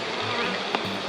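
Honeybees in an opened apiary hive in Comalapa during midwinter make a steady, close buzzing drone that swells and fades slightly over the short moment, with no voices.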